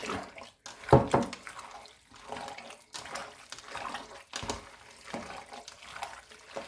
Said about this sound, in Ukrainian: Додаю сюди ще водички холодної 200 мл.